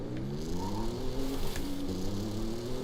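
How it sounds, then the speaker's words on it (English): The Jurassic Jeep car in a video game, its engine droning at a steady moderate pitch as it drives, heard alone and fairly quiet. "Oh, the Jurassic Jeep? Yeah, I love this car."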